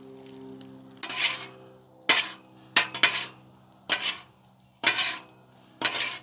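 Egg fried rice is tossed in an electric chafing dish, bursts of sizzling scrape and metal clatter arriving every second or so between quieter moments with a low steady hum beneath, close and clear.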